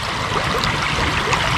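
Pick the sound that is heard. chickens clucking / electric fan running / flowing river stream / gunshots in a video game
flowing river stream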